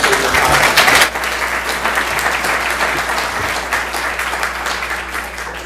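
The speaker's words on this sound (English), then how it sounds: "If we give them a round of applause, I appreciate your time." An audience at a school district committee meeting applauds committee members, with steady, dense clapping that runs for several seconds and peaks loudest at the start before settling into a sustained even roar.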